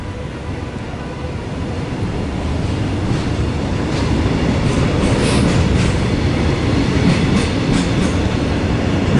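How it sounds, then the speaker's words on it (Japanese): A long freight train rolls past a station in Shiojiri, Nagano, with a steady loud rumble and rail clatter that keeps building throughout. "貨物列車が動き始めました。"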